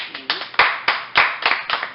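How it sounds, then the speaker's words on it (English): A small group applauds at a podcast taping inside a pizzeria, with several sharp, uneven claps spread across two seconds and some faint background speech. "let's get a round of applause"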